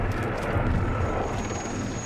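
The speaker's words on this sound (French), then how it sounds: "des hélicoptères acheminent de gros extincteurs depuis la base" Helicopters fly in carrying large fire extinguishers to fight a fire, making a steady, loud roar of rotors and engines with no voices.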